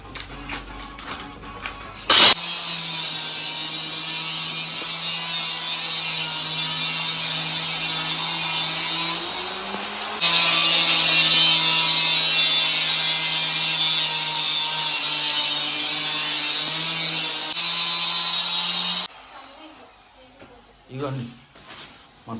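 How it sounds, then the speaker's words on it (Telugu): Loud continuous whine of a power cutter slicing marble stone for new house flooring, held steadily with a brief pause and restart, then stopping near the end. "ఇదిగోండి మార్బుల్ అయితే కటింగ్ జరుగుతుంది ఇక్కడ"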